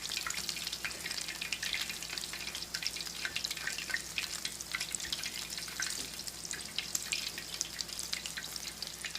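Potato cakes sizzle in a frying pan, a steady, close crackling and spitting of hot oil with no talking.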